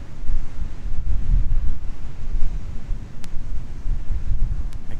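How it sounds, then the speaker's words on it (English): Low, rumbling surges of water wash in and out in an intertidal zone with wind buffeting the microphone, rising and falling in uneven swells. "I can hear the water coming up again."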